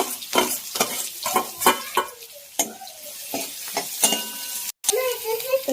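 Chopped onion fries in a pan with cumin, mustard seed and garlic: a loud sizzle broken by repeated scraping stirs and clinks of a utensil against the pan.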